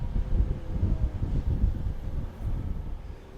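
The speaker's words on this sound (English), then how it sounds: "It's very windy. We're getting that back wind from the hurricane." Strong wind from Hurricane Debby buffets a dock in Charleston, South Carolina, a loud low rumbling roar that gusts continuously and eases slightly near the end.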